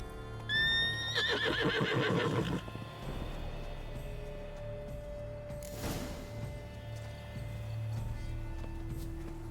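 A horse in The Witcher 3: Blood and Wine lets out a loud, wavering neigh, followed by soft hoof clip-clops and quieter ambient game sounds.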